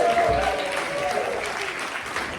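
An audience at a health inequalities network event applauds in a continuous wash of clapping, moderately loud and close, with faint voices underneath.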